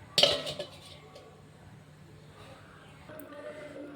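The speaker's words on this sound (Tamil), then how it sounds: "தட்டை போட்டு மூடிடலாம்." A plate set down as a lid over a cooking pot of chicken curry gives one sharp ceramic clink near the start, followed by a few fainter rattles and then quiet room noise.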